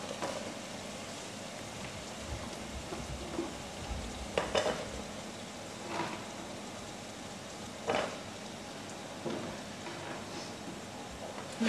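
Vegetables frying in oil flavoured beforehand for an African dish, a continuous soft sizzle with occasional stirring clatters, fairly quiet and close, with no voices.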